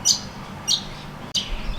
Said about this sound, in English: The birds chirping in the background